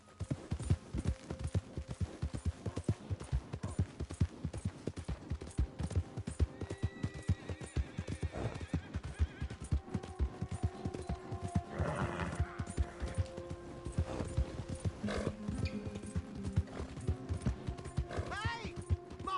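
Horse in the video game Red Dead Redemption II, its hooves clip-clopping in a dense, rapid rhythm close by, with whinnies and neighs rising over the hoofbeats and voices in between.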